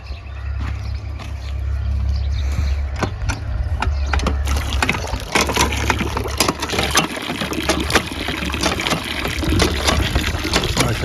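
A hand pump in a Cholistan desert village is worked while clean water gushes out in a continuous, splashing rush, with rhythmic clanks from the pump handle.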